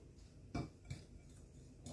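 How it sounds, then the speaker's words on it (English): Dry sugar and cinnamon stirred together in a bowl for apple pie filling, giving a few quiet scraping and clinking strokes of a utensil against the dish, with short bursts over a soft background. "Let's get that all stirred up there."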